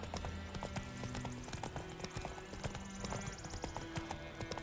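Horse hooves clip-clop in a steady, brisk rhythm in The Witcher 3, fairly close and even in loudness, over a low musical drone with an occasional faint snort.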